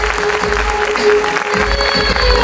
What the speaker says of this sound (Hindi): एक बार जोरदार तालियां होनी चाहिए गामा ओरिजिनॉल की इस प्रॉपर्टी के लिए।